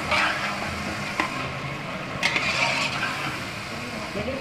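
Masala for aloo chicken pulao frying and being stirred in a pan, a steady close sizzle with occasional scraping clinks of the spoon, no voices.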